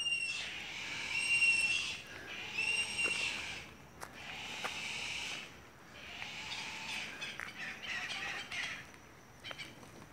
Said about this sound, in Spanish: Hay un par de águilas de aquí del sector.